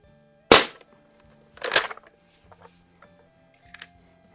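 Barra 1866 CO2 air rifle, blued, with a stock .177 smooth-bore barrel, fires two sharp, loud cracks about a second apart, followed by faint mechanical ticks and clicks.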